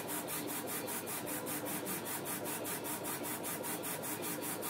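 A 30-watt LaserPro CO2 laser engraver rasters a high-resolution photo at 500 to 600 DPI and 20% power, giving a steady, rhythmic back-and-forth rasping pulse at about four beats per second, continuous throughout.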